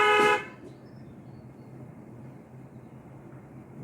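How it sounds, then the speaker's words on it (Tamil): A single short, loud car horn honk at the very start, then a low steady hum of a vehicle interior with no further honks. "ஒரு தடவை ஹார்ன் அடிச்சுக்கலாம்"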